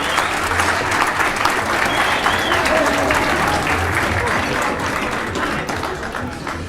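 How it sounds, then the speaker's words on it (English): Dinner audience applause at a Hall of Fame induction dinner, a steady, dense wash of clapping from a large seated crowd lasting several seconds without a break, slightly fading at the end. "How about a big round of applause?"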